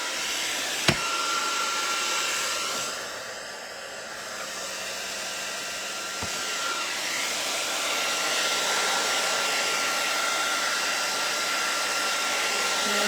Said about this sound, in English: Get my dryer out. We're going to dry this a little bit.